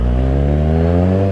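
A Kawasaki Z1000 motorcycle engine revs loud and close, a continuous throaty drone that rises slightly in pitch.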